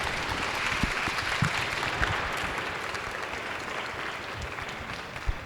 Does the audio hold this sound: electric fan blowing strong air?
no